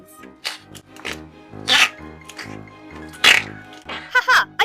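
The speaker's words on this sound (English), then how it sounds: "Ah, what a fart noise." Stretchy toy putty squeezed to force out air makes short, squelchy fart-like bursts that come in several uneven pulses. Close and fairly loud.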